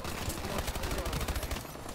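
Rapid automatic gunfire from an online Call of Duty Advanced Warfare team deathmatch, dense bursts of shots running continuously over game noise and music.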